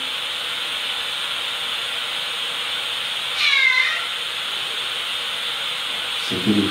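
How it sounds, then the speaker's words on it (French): A house cat gives a single clear meow in a quiet home, with a faint rustle or thump near the end and steady low background hiss throughout. "C'était le chat, bien évidemment."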